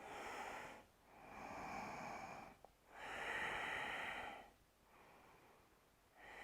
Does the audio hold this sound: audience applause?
no